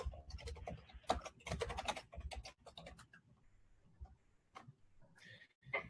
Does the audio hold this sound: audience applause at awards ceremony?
no